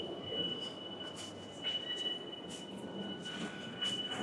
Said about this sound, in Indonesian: Oh ini ada kereta baru datang, kereta regional.